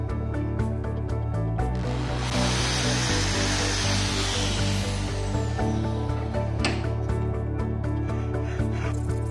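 A power drill bores a hole in a workpiece during a homemade solar panel build, a steady close whine running for about nine seconds with slight shifts in pitch as the bit cuts.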